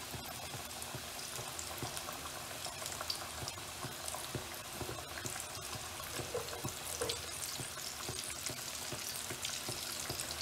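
Two large chicken pieces fry in hot oil for crispy KFC-style chicken, giving a steady, dense crackling sizzle with scattered pops throughout, close and fairly loud, with no voices.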